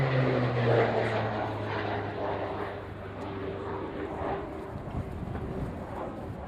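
A Grob Tutor propeller aircraft flies a display at the Fairford airshow, with a steady droning engine and propeller tone that shifts in pitch as it passes, under faint background voices.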